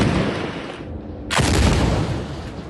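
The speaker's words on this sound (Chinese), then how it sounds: "一台台以色列坦克朝加萨内部往前开，强大火力毫不留情猛轰远处建筑。" Israeli tanks fire heavily at distant buildings in Gaza: a loud, continuous roar of gunfire that swells into a heavier blast partway through.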